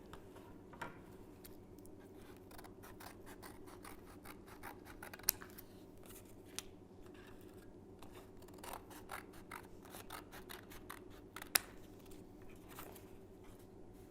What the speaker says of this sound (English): So what I've done is started to cut up these tea boxes.